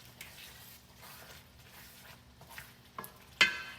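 Garlic being stirred into a tomato sauce in a pot for jollof rice, heard as quiet soft scrapes and a gentle low sizzle, with a couple of louder knocks against the pot near the end.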